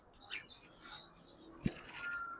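Caged lovebirds give a few faint, sparse chirps and a brief sharp wing flutter or knock near the middle, set against a quiet room background.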